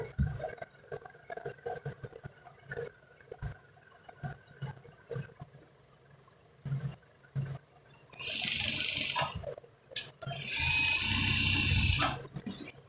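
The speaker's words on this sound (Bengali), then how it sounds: "প্রথমে চড়া সাইড থেকে চিকন সাইডে সেলাই যাব" A sewing machine stitches the side seam of a kalidar panjabi, running in two loud, steady bursts near the end after a stretch of quiet cloth handling and light taps.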